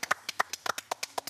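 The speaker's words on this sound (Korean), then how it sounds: "먹기 전에 우리 친구한테 박수 한번 주자" A small group of friends claps for one of their own at a campsite before a pork belly meal, giving about a dozen quick, uneven handclaps close by with no talk.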